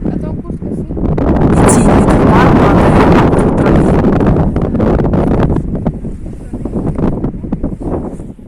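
Strong gusts of wind buffet the microphone in a loud, continuous roar that swells and eases, with no voices, on a mountain trail near Lake Ivor in Zakarpattia, Ukraine, in October.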